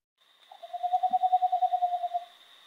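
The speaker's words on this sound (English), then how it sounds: "So this is the boreal owl song." Boreal owl song heard on a nocturnal owl survey: a single steady run of rapid hollow toots that swells in loudness and then fades, alone against a quiet night background with a faint low hum.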